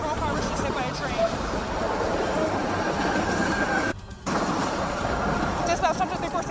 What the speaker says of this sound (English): Patrol car was just hit by a train.